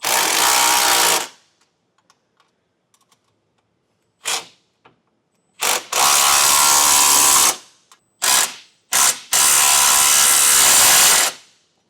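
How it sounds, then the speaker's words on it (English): Bolts on the smaller base plate of a 2022 Chevrolet Equinox are tightened with a 14mm socket and wrench, giving loud bursts of ratcheting, the longest running a couple of seconds, separated by short clicks and near silence. "we'll tighten down our smaller base plate hardware with a 14mm socket and wrench"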